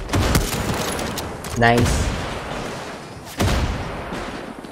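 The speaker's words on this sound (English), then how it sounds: "Oh, he's using mortar there, look at that!" Mortar and gunfire in the Far Cry 6 game: sharp blasts with a rising whistle near the middle, then another loud explosion near the end, over continuous battle noise with a short spoken word.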